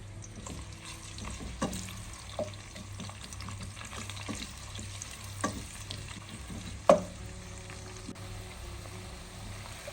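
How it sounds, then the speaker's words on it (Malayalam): Four small green chilies and one onion frying in heating oil for egg mandi: a soft, steady sizzle with scattered light taps and scrapes of stirring, one sharper clink near the end, quiet and close. "ഓയിൽ ചൂടായി വരുന്ന സമയത്ത് ഇതിലേക്ക് ഒരു 4 പച്ചമുളകും 1 സവാളയും നമ്മൾ ചേർത്ത് കൊടുക്കുകയാണ്."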